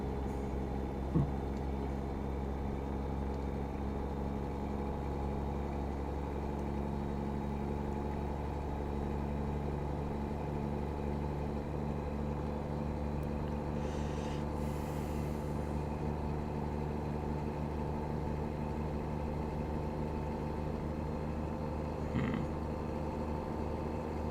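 Truck engine in American Truck Simulator, hauling about 19,000 pounds, drones steadily for a long stretch at an even, moderate level, with a faint brief hiss midway and no speech.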